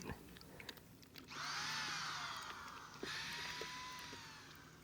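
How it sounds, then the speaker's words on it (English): A power drill whirs up and runs in a sustained high whine with a brief dip and restart, drilling parts for a homemade hydroponic system, fairly close and alone without talk. "Oh look, we're drilling."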